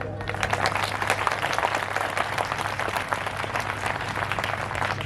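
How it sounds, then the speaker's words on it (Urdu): Audience applause at a charity speech event for a thalassemia hospital in Kangan Pur, a steady dense wash of clapping held throughout, fairly close and continuous over a low hum. "تو آپ کے ہاتھوں کی تالیاں یہ بتا سکتی ہیں کیا یہ صحیح ہوا"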